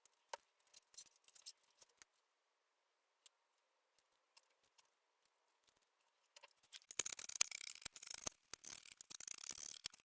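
Scissors cutting knit fabric along a pinned pattern, with faint scattered snips at first, then a louder, denser run of crisp cutting and rustling close by, and no speech.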